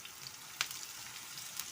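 Onions frying gently in hot oil for an egg khagina breakfast keep up a faint, even sizzle, with a single light spoon clink and a soft stir.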